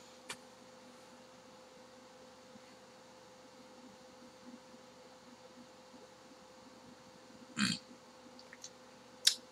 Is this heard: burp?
yes